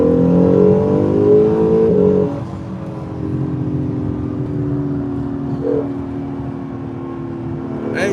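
An Acura NSX sports car engine revs hard with rising harmonic tones, then drops to a steady, loud drone that holds near and continuous until the end.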